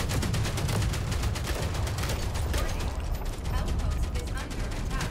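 Artillery bombardment in the sci-fi video game Outpost: Infinity Siege, a dense, continuous barrage of rapid booming impacts and mechanical clatter, loud and sustained throughout with no pauses.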